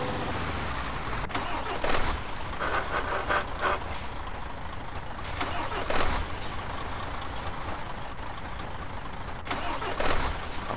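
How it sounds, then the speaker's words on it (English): A truck engine in the Euro Truck Simulator 2 game hums steadily and loudly, with repeated bursts of mechanical gearbox clunks and air hisses scattered across it; someone speaks faintly now and then. "Oh, listen to that gearbox."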